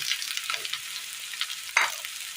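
Shallots and brinjal fry in a hot pan with a continuous close sizzle, broken by soft stirring scrapes and one sharper clatter.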